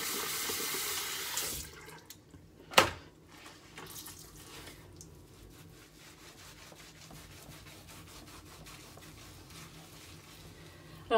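Face being rinsed at a bathroom sink with a washcloth: a brief gush of running water at the start, then soft, faint rubbing and light splashing.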